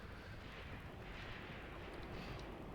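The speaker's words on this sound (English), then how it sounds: "That's heavy artillery." Heavy artillery fire in the Graviteam Tactics war game during the Second Battle of Kharkov, a faint, steady rumbling roar of distant bombardment with no distinct separate blasts and no talk.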